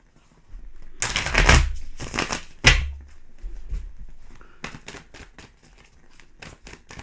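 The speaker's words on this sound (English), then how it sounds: "One more shuffle." Tarot cards being shuffled by hand in quick riffling bursts, followed by a series of sharp taps and snaps as cards are squared and set down, close up.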